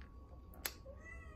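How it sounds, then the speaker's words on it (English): A pet cat lets out a single short, faint meow in the background of an indoor room, and no one speaks during it. "Ignore my cat in the background"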